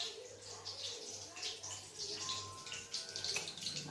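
Hot drinking water pours and splashes quietly and steadily for a few seconds, faint and close, with no talk over it.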